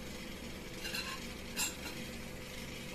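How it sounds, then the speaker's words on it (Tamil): Onions frying in hot oil in a home kitchen pan give a steady, close sizzle, with a couple of brief stirring scrapes partway through. "சூடாகிட்டு ஆனியன் போட்டு ஃப்ரை பண்ணலாம்."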